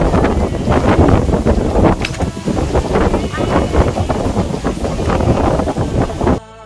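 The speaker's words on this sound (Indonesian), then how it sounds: "Hembusan angin dari sini sangat kencang sekali ya sahabat semua" Strong wind gusts roaring across a hilltop at Bukit Radar in Aceh Besar, a loud, continuous buffeting rush against the microphone with surging bursts and no break, cut off abruptly at the end.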